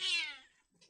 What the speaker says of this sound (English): that noise was me sitting on the cat accidentally